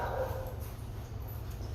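Faint dog barks and yips echo from a distance in kennels over a constant low background hum.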